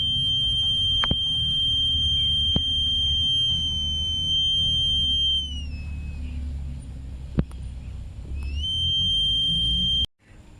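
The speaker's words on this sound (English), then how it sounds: "When the LDR detect light, the buzzer will buzzing." A buzzer in a small light-sensor (LDR) circuit project sounds as a steady, piercing electronic tone, held continuously for about five seconds, briefly dropping in pitch, then returning, over a low background rumble with a few sharp clicks.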